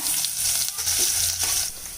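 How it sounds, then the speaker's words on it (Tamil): Steady, close sizzling of crushed garlic frying in hot oil, crackling continuously with no voices. "இப்போ பூண்டு நல்லா வதங்கிடுச்சுங்க"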